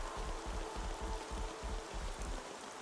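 Steady rainfall in Xenoblade Chronicles 3, a dense, even hiss of falling rain with a soft low rumble, continuous and moderately loud with no voices.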